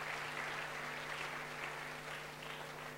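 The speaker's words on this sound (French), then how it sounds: "Je crois que ça mérite des applaudissements, Hugo" Faint, distant crowd applause at an outdoor televised village event in Bletterans, a continuous patter of clapping sitting over a low steady hum, with no speech on top.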